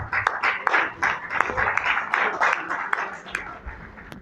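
Audience applause for Mrs. Ayinde at a British Council classroom event, loose and uneven clapping in irregular bursts that swell and fade, fairly close, with some voices mixed in.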